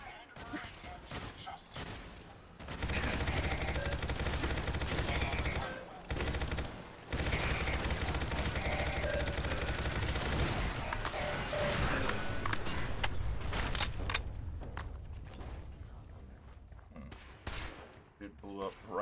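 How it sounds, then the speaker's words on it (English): Gunfire in the video game Fallout 4, sustained rapid machine-gun bursts and volleys filling most of the stretch, loud and dense with only brief pauses, with voices talking over parts of it. "Heads up. Opening fire."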